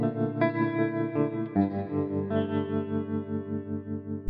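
An electric guitar on the GTRS S801 intelligent guitar's Hollowed preset plays sustained, spooky chords with a wavering tremolo-vibrato shimmer, distorted and chorused, loud and continuous with a few re-struck chords and no talking.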